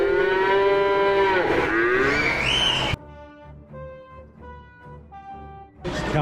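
A Lancaster County dairy cow gives a loud, close moo that sweeps upward and breaks off at the midpoint, then a softer run of steady tones follows, and a fresh loud burst starts right at the end.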